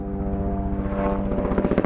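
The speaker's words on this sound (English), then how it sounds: "4 medical helicopters fly over the crowd" Four medical helicopters pass over a crowd at a memorial, their rotors throbbing in a loud, steady, close chop with a strong engine whine and no voices.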